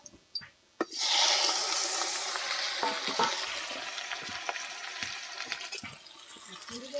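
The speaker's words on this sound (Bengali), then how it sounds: "তেল গরম হয়ে গেছে, এবার শামুকের শ্বাসগুলোকে দিয়ে দিব।" Snail meat collected from a wetland hits hot mustard oil in a pan with a sudden loud burst of sizzling that slowly settles into a steady hiss, broken by clanks of stirring, with no talk.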